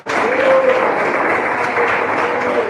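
A church congregation claps during a sermon, a dense, even wash of hand claps lasting under three seconds, with a faint voice or whistle-like tone briefly rising above it.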